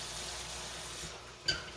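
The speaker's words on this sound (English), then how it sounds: "pour it all over the shrimp" Milk splashes steadily over raw shrimp in a container, a soft continuous pour that drops away with a faint clink near the end.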